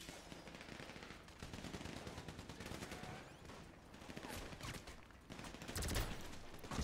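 Gunfire rattles through a shootout in GTA V: rapid automatic bursts and scattered single shots overlap almost continuously, moderately quiet overall and swelling a little toward the end.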